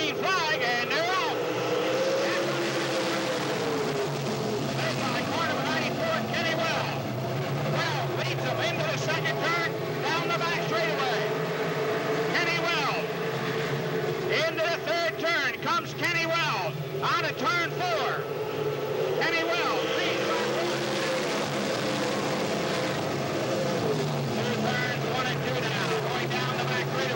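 Sprint race cars taking the green flag for a heat race at Hagerstown, a dense roar of many engines rising and falling as the pack pulls away, with an announcer talking over the noise.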